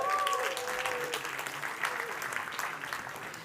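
Audience applause fills a startup pitch competition hall, steady and fairly close, gradually thinning out as a voice briefly speaks over it.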